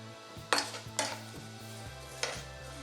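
Noodles stirred in a pan with only a little oil, giving a few sharp utensil scrapes and clinks against the metal over a low, steady sizzle and hum.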